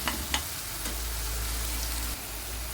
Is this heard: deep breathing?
no